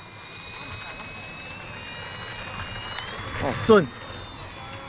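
A 1100mm RC model F4U Corsair plane starting its takeoff run, its electric motor giving a steady, high-pitched whine that slowly shifts in pitch, heard nearby under outdoor background noise while people talk briefly.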